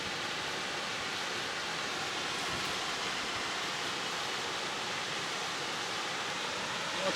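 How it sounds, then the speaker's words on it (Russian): Water rushing over a small foaming dam by a park spring, a dense, steady roar of broadband noise that stays constant and loud with no talking. "Это шумная пенная дамба."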